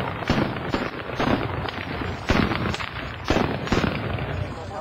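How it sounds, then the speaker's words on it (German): Ceremonial Böller salute firecrackers fired outdoors, giving sharp booming blasts that echo and roll away, with a few loud reports spread across a steady crowd-like background. "Wir werden 2 Böllerschüsse machen"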